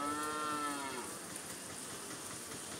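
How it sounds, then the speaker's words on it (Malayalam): A calf at a goat market in Kilimanoor, Kerala gives one drawn-out, close moo that fades after about a second, with steady market hubbub continuing beneath it. "3-4 മോരിക്കുട്ടികളും പശുക്കുട്ടികളൊക്കെ ഉണ്ട് ഇവിടെ നിപ്പുണ്ട്."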